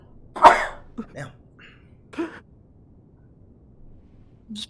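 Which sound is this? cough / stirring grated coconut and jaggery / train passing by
cough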